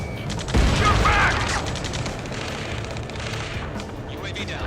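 Rapid gunfire rattles in Ace Combat 7 during a fight around a space elevator, a loud burst early on fading into a steady crackle of distant shots over a dense battle din.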